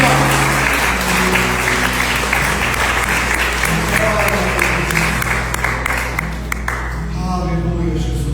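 A church congregation at a Sunday worship service breaks into sustained applause, a thick, continuous roar of many hands that gradually thins toward the end, with music and voices mixed in.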